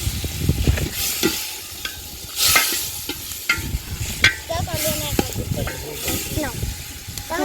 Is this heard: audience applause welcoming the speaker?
no